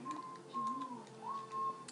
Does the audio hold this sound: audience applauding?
no